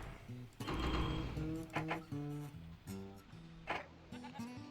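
Cartoonish sheep bleats from a farming video game, several short wavering calls in a row over a steady background hum, fairly close and clear.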